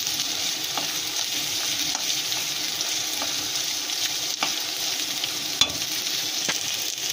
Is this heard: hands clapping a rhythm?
no